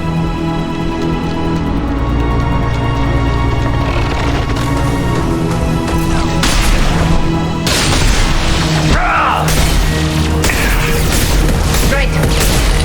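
An overridden turret fires in Mass Effect 2: repeated loud booming bursts and blasts crack through a dense bed of battle ambience, arriving in irregular clusters over the steady din.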